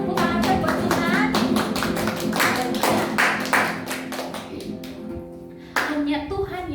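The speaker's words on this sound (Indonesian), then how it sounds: "Kakak mau dengar dong tepuk tangan saya buat Tuhan." Children in a Sunday school service clap their hands in a quick, steady rhythm of sharp claps alongside voices and singing, the clapping pausing briefly near the end before resuming.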